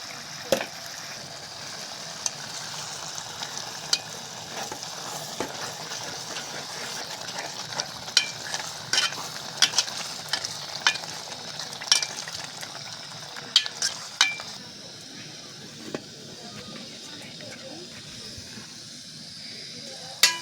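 Chili frying in oil for a Gujarati bottle gourd curry, a steady close sizzle with scattered sharp crackles and pops over 20 seconds, easing slightly toward the end.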